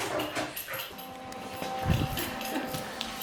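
A puppy whimpers and gives short yips in a workshop setting, a few high, thin cries scattered over about three seconds, fairly close and alone without talk.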